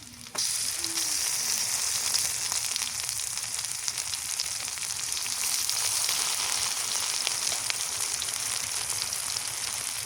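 Garlic paste is dropped into a hot pan and fries with a loud, steady, dense sizzle that starts abruptly and carries on evenly throughout, with no voices.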